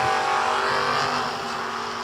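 A Camaro and a Vega launch side by side at a drag strip, engines roaring loud and sustained at high revs, close and filling the whole moment.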